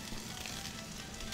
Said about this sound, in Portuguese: Depois que a cebola estiver bem refogadinha, eu vou adicionar 1/2 maço de espinafre